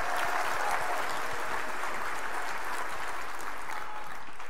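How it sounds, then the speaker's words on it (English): An audience of over a thousand at a Glover U leadership event gives a loud, sustained round of applause, dense clapping filling the room without pause. "round of applause for Big Ben"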